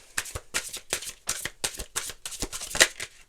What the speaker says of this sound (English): Last shuffle for Virgo.